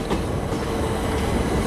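Train rumbling past beside the Thames at night near Pickford's Wharf in London, a loud close continuous roar of wheels and carriages with no talk.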